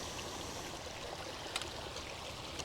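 Clear water flows in a small cove, a soft, steady rushing trickle heard close and alone, with one slightly brighter splash partway through.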